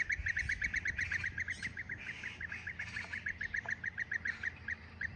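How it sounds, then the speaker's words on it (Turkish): Bee-eater alarm calls ring out in a rapid, evenly spaced series of sharp, bright notes, loud and near, with a brief break before the calling resumes. "Şimdi şu anda duyduğunuz bu ses, gerçek arı kuşunun panik anında kaçın sinyali verdiği ses."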